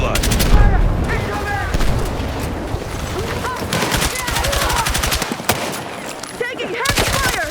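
Heavy automatic gunfire in the Battlefield 6 campaign mission "No Sleep", with dense rapid bursts and booms going on continuously and loudly, mixed with game voices and music.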